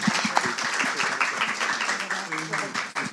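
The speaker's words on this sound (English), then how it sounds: "Can I get a round of applause for our panelists" An audience at a workshop gives the panelists a round of applause, dense clapping that stays loud throughout, with voices talking over it.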